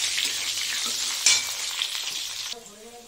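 Potatoes fry with a dense, steady sizzle in a pan along with bay leaves and radhuni seeds, a sharp stir or clink midway, and the hiss eases near the end as a voice begins talking.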